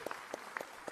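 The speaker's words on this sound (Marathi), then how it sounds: "आपण पुन्हा टाळ्या मारू" Applause from an audience at an award ceremony, several brief bursts of clapping with short pauses between, moderately near and fairly quiet.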